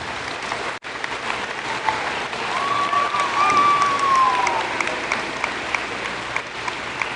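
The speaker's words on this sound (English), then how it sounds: "Please give yourself a round of applause." Sustained applause from an audience at a middle school eighth grade celebration, steady broadband clapping filling the room for several seconds with a faint whistle or tone partway through.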